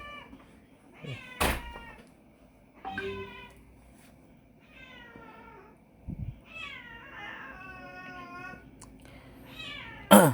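A cat meows repeatedly beside a shop, the calls rising and falling in several drawn-out bursts spread across the clip, with a few sharp knocks and thumps between them.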